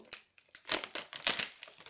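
A Yu-Gi-Oh booster pack wrapper is cut open with a knife, giving two loud bursts of crinkling foil plastic, each with short rustles and faint taps around it, close to the microphone.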